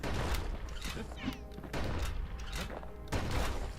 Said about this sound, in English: Oh man, I'm gonna have a good time with this musket.